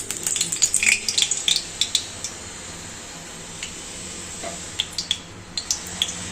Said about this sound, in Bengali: প্রথমে আমার মাছটাকে ভেজে নেব।